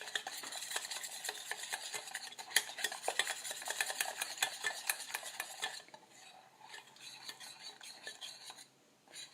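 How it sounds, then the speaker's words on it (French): Melted chocolate stirred in a small metal pot, a busy clatter of a spoon scraping and knocking the sides, loud and rapid at first, then softer and sparser toward the end. "Quand je le mélange, tu vois, le chocolat, là, il bouge dans mon chaudron, dans mon petit chaudron"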